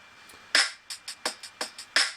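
Preset hip hop drum beat from a metronome app, a few quiet hits and then a sharp loud accent followed by a syncopated run of snappy strikes and another strong accent near the end, with no one talking.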